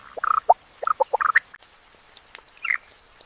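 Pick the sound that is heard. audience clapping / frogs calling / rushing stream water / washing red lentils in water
frogs calling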